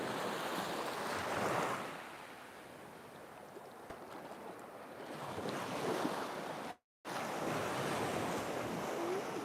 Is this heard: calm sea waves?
yes